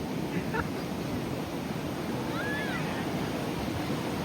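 Steady broadband wash of sea surf and wind noise at Puri beach, constant and fairly loud, with a brief whistle-like tone partway through.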